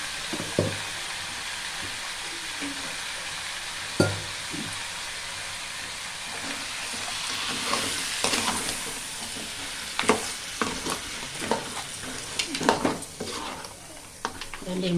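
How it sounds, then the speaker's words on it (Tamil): Crab frying with spices in a pan, a continuous moderate sizzle broken by stirring scrapes and clinks of utensil against the pan, growing busier toward the end. "எல்லாத்தையும் போட்டு வதக்க வைக்கலாம்"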